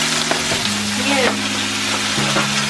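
Salted pork fries in a pan with a loud, steady sizzle and crackle heard up close, over a low steady hum that shifts pitch a couple of times.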